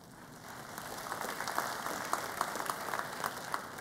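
Audience at a lecture on Tibet and India applauding, a steady wash of many hands clapping at moderate distance, swelling slightly and continuing without talk.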